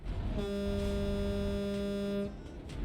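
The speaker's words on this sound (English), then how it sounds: "I'm gonna honk my horn at them." A truck horn in Euro Truck Simulator 2 sounds one long, loud, steady honk for about two seconds over low engine rumble, with no talk.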